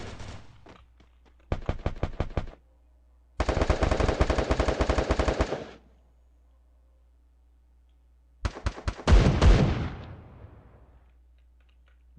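AK rifle fire from the Watch Dogs 2 video game, heard as loud, rapid automatic bursts of varying length separated by brief silences, with the final burst trailing into a rumbling echo.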